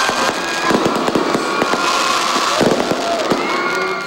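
A celebratory fireworks display at night, with rapid dense bursts and crackling pops overlapping continuously and loudly, shells whistling faintly between reports.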